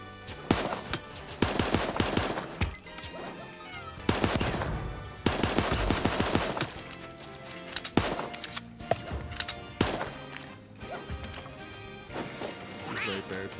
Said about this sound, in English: Why would you be shooting at the duo?